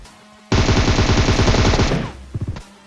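Automatic gunfire from a PUBG battle royale match: a loud, sustained rapid burst of shots lasting about a second and a half, then a few separate trailing pops, with no talking.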